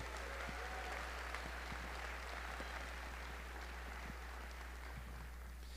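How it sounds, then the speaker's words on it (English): Faint, steady applause from a large audience at the opening ceremony on the Devcon VI main stage in Bogotá, sustained and even over a low constant hum. "So can I please get a round of applause for all of these partners?"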